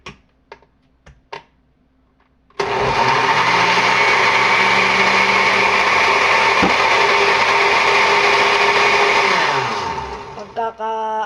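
A kitchen blender runs loud and steady for about seven seconds, churning a mix of fruit and carrots, after a few light taps and clicks before it starts and winding down at the end.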